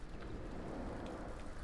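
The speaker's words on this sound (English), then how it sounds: "It's raining!" Rain falls in the video game YLands as a soft, steady hiss with no breaks. No talking is heard over it.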